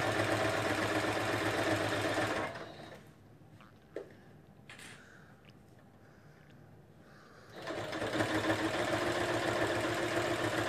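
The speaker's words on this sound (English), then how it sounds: "And so I'm just going to continue sewing." A sewing machine stitches fabric with a loud, steady motor whir that drops away for about five seconds mid-run, then starts up again at full volume.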